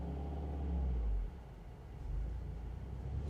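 A manual car's engine in first gear, heard from inside the cabin as a low steady rumble that swells and then settles, with no talking.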